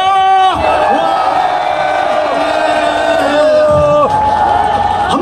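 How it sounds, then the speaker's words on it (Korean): A crowd at an outdoor commemorative ceremony roars with a loud, sustained collective shout along with clapping, cheering as one voice before easing off and then swelling again. "함성과 함께 박수를 치시겠습니다"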